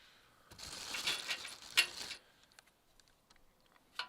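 Washers and a nut clink and scrape onto a bolt during maintenance on a 2003 Toyota Tundra, with a cluster of faint metallic rattles and small ticks up close, followed by quieter taps.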